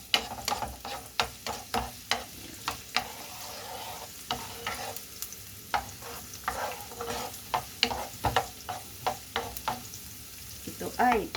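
Garlic frying in hot oil for a spinach dish, with a constant soft sizzle under repeated sharp scraping stirs of a utensil against the pan, close and moderately quiet.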